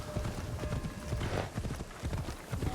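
Horse hooves clop in a quick, steady rhythm as a mount travels in Assassin's Creed Shadows, close and continuous across the whole stretch with no talking.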